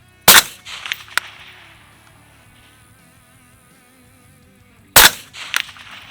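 Two loud, sharp gunshots from an MK12 Mod 0 rifle at an outdoor range, each a hard crack followed by a rolling echo, with a faint distant ping between them and quiet stretches in between.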